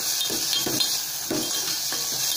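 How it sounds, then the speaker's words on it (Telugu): Tomato pieces fry in a pan for tomato rasam, giving a steady soft sizzle. A utensil stirs them in a few brief, evenly spaced scrapes over the sizzle. "ఈ టమాటా పీసెస్ అంతా బాగా మెత్తగా ఉడికిపోయేదాకా మనం ఇలా ఫ్రై చేసుకుంటూ ఉండాలి"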